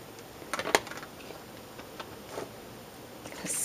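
An archival ink pad is pressed and scraped across paper in a papercraft project, giving a few soft, brief scratchy rasps with quiet pauses between them.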